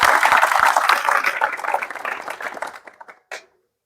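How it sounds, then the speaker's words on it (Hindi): Loud audience applause for Kiran at a talk on Indian Navy SSR training, a dense burst of clapping that thins into a few scattered claps and ends with one last clap before silence. "एक बार जोरदार किरण के लिए तालियां"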